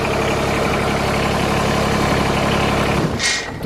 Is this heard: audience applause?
no